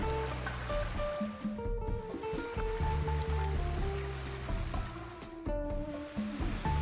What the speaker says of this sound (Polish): Potok szlifuje kamienie.